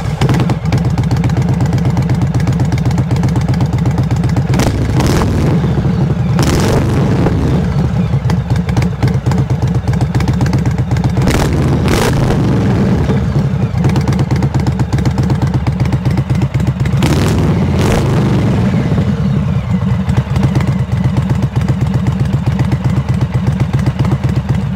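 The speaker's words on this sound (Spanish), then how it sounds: "A esta moto se le agregó como accesorio unos escapes tipo slip-ons de la marca Reinhardt." An Indian Sport Chief motorcycle fitted with Reinhardt slip-on exhausts idles with a loud, deep, steady rumble close by. Its throttle is blipped several times, giving sharp revving bursts over the lumpy idle.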